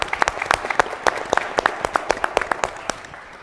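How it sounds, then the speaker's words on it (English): A modest round of applause from a seated audience at a university alumni weekend session, steady, fairly close claps with some louder individual hands, with no talk over it. "Can we please give them a round of applause?"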